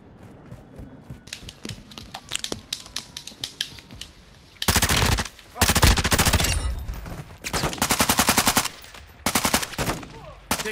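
In the video game Call of Duty, scattered single shots and mechanical clicks build into loud, sustained bursts of rapid automatic fire in the second half.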